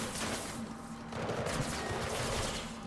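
Rapid gunfire in the video game Mirror's Edge Catalyst, a dense continuous burst of shots at moderate level under a steady game soundscape, with no talking.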